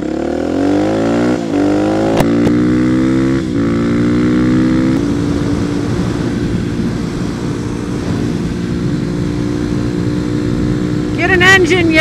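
A motorcycle engine runs at wide-open throttle on a highway, a loud, steady drone with rising revs early on, heavy wind rush throughout, and a voice talking over it.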